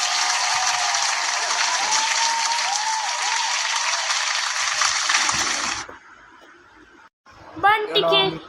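A classroom group claps for students, dense steady applause for several seconds that cuts off, followed by quiet and then voices talking.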